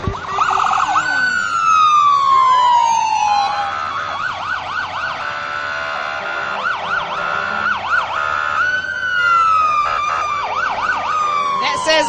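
Kingsport Life-Saving Crew emergency vehicles roll past in a Christmas parade, sirens wailing and yelping loud and close for the whole stretch, with rising and falling sweeps overlapping against street noise.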